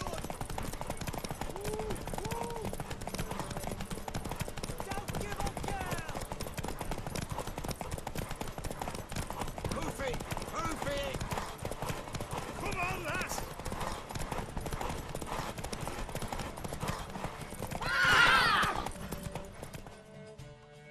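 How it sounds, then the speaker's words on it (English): A horse in the video game Witcher 3 trots with steady clip-clopping hooves throughout, and a brief neigh comes near the end while characters talk over it. "Worthy of the best horse. The mare is yours."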